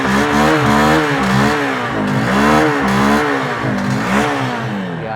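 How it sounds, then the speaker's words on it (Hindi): A Honda SP motorcycle engine revs repeatedly from idle, its exhaust note climbing and dropping in several loud, close throttle blips without any talking. "इंजन साउंड सुनो, एग्जॉस्ट नोट सुनो। थ्रॉटल लेता हूँ"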